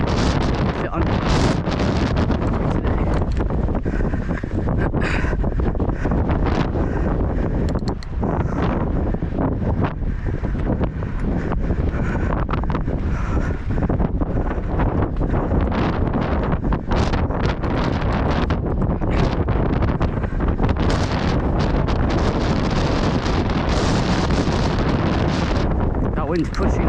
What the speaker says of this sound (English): That wind's pushing.